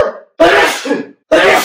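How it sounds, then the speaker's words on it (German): A man sneezes loudly and close up, two forceful bursts separated by a brief pause. "Ich muss niesen."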